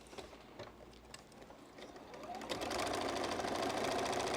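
A sewing machine stitches a flying geese quilt block, starting with a few soft clicks and then settling into a fast, steady run of needle strokes, fairly quiet and close.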